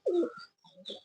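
A pair of Pakistani pigeons gives a brief, close coo followed by a few softer throaty notes, quiet and short with small gaps between.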